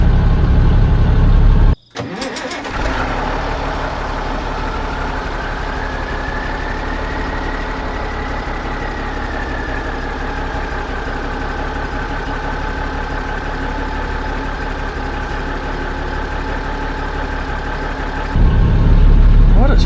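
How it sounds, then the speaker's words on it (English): A 1971 Mack RL700L long-hood truck cranks briefly, fires at once and settles into a steady, loud mid-pitched idle that runs unbroken for most of the stretch, with a slight rise in level near the end. "This fires right off."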